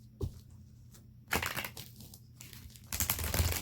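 Tarot cards are shuffled up close in two quick bursts of riffling and flicking, separated by quiet moments, with no speech.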